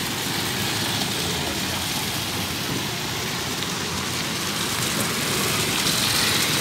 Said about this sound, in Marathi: पावसाची रिमझिम सुरू. मध्यरात्रीपासून पडत आहे पावसाच्या सरी.